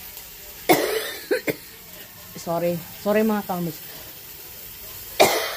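Two sharp coughs from a person sick with a cold break the quiet, with a short apologetic phrase spoken in between and another cough at the end.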